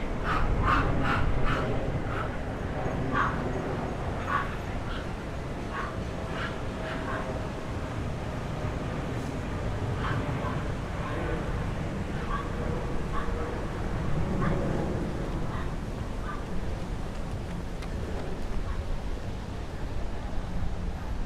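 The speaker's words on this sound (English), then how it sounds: "vicious dogs make so much noise" Several dogs bark and yip repeatedly over a steady, noisy evening street background in downtown Miami, with occasional whimpers; the barking is moderately loud and continues throughout.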